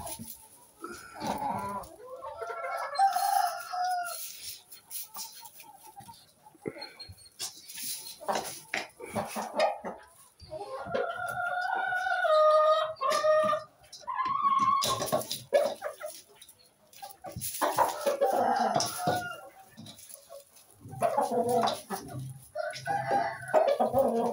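Chickens and pullets in a UK poultry yard, heard up close as repeated clucking and crowing calls that come and go across the clip, loud and busy with several birds overlapping.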